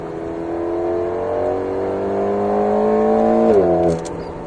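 An Alpine A110S sports car on the Alès race circuit, its engine note droning steadily and rising slightly before dropping sharply as it brakes near the end, loud and close with no talk.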